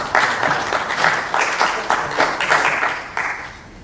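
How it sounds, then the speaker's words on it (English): Conference audience applauding in a steady, dense round of clapping that swells in waves and holds throughout, with no talk over it. "I'll always take another round of applause if there's no"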